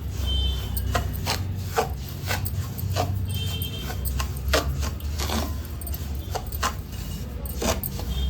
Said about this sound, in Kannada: ಚೆಂದ ಮಿಕ್ಸ್ ಮಾಡ್ತಾ ಫ್ರೈ ಮಾಡ್ಕೊಳ್ಳೋಣ